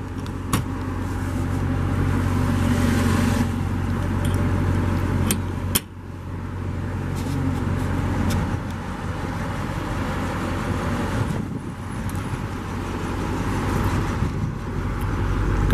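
A 2017 Dodge Challenger R/T T/A Plus engine idles with a steady low hum, joined by a few faint clicks and one brief thump, and no voices.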